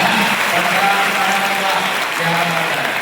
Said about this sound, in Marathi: वाजवा स्वतःसाठी टाळ्या, एकदा वाजवा